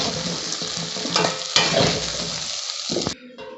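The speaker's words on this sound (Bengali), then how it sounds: "আলুটা একটু ভেজে নিতে হয়" Potato pieces fry in hot oil in a pan, a loud, dense sizzle with scraping stirs, then a spatula knock and the frying fades abruptly near the end.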